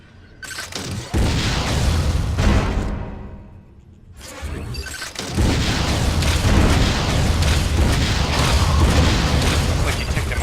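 A missile fires and explodes in Metroid Other M, a loud whooshing launch followed by a heavy booming blast and rumbling debris, with sustained loud game noise afterward.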